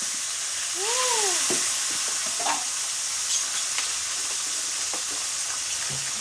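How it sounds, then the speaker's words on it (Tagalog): Tilapia frying in very hot cooking oil, giving a steady broadband sizzle and hiss throughout, with a brief whistle-like tone early on and a few clinks and knocks over the continuous crackle. "Ilagay na natin dahil napakainit na ng mantika."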